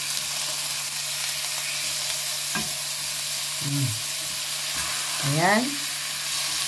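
Chicken thighs pan-frying in a pan, giving a steady broad sizzle throughout with occasional stirring knocks, while a voice speaks briefly over it.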